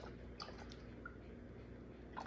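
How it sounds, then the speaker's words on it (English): Milk poured into a pan of water makes soft, faint liquid splashing with a few scattered drips over a low background hum. "I'm going to add some milk."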